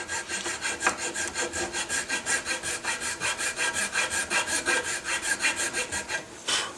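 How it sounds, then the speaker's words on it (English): A pillar file smooths the wooden patchbox recess of a gun stock, giving steady rhythmic rasping strokes, about four per second, close and alone with no talk. "I use a pillar file"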